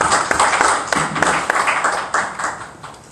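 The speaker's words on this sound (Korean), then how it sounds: "크게 박수를 드리도록 하겠습니다." A church congregation clapping together, a fairly close and brisk burst of many hands that thins out and fades over a few seconds.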